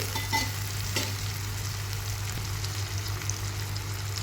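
Fried brinjal pieces go into a pan of hot spiced oil, giving a steady close sizzle and crackle with a few stirring scrapes early on and a low hum underneath.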